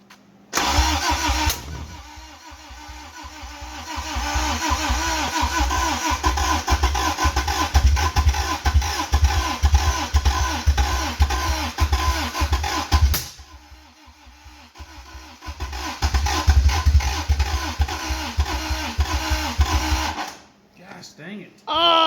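A first-generation Toyota MR2's 4A-GE 16-valve engine cranks over and almost catches: loud, steady rhythmic churning that pauses briefly, resumes, then cuts off near the end, with voices around it.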